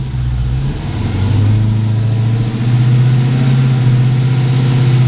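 A 2018 widebody Dodge Challenger Hellcat accelerates hard, its engine rising in a loud steady drone, dipping briefly at a gear change into second, then pulling strongly again up close.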